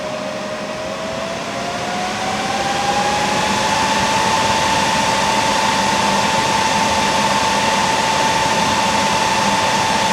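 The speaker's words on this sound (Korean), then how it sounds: "에어플라이어를 작동시켜서 소음을 한번 들어볼게요" An air fryer runs on an all-in-one power bank through its inverter, giving a loud, steady fan whir with a whining tone that rises briefly and then holds level throughout.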